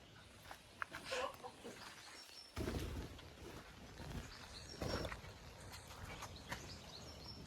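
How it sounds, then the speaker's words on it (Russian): Silkie hens in a backyard coop cluck softly and intermittently, with scattered bird calls and a couple of louder rustling bursts, like movement or footsteps nearby, in an otherwise quiet outdoor setting. "И здесь еще живут шелковые курочки"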